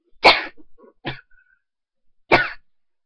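Three sharp coughs from one person, a strong one, a smaller one a beat later, and a final forceful cough after a pause, close and dry, with short breathy gaps and no talking.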